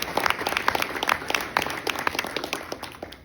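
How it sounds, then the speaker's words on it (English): Audience applause during a talk at Temple Israel in Natick, a steady patter of many hands clapping at moderate volume, continuous for a few seconds with no voices over it. "Yes, you should applaud."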